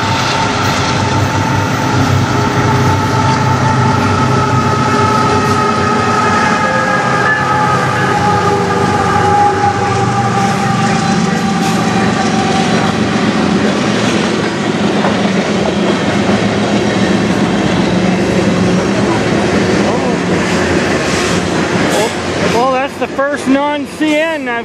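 A CN manifest freight train led by CN and KCS locomotives passes close by in Sarnia, Ontario, a loud continuous rumble with engine drone and rhythmic wheel clatter, ending in a squealing tone.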